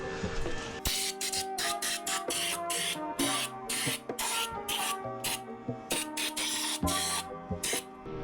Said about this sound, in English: we figured out an ingenious way to run the pump inside without making too much noise